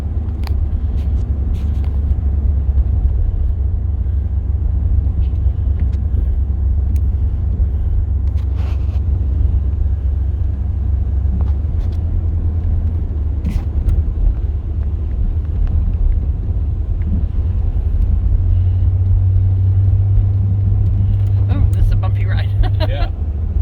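Chevy G20 conversion van driving on city streets: a steady low engine and road rumble heard from inside the cabin, continuous throughout, with people talking over it.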